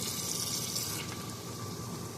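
Water runs steadily through a tankless water heater being descaled, draining into a pan. The flow makes a constant, even rushing with no voices.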